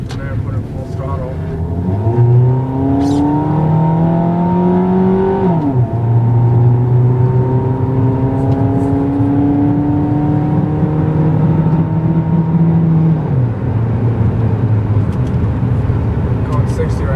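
A 2003 Suzuki Aero fitted with an exhaust clip, rated at 35 hp, revs up at full throttle. The engine note climbs, drops at a gear change and climbs again, staying loud and steady throughout the ride.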